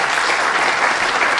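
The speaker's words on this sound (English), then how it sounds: "give a round of applause" An audience at a configuration management conference talk claps in dense, sustained applause that fills the room evenly throughout.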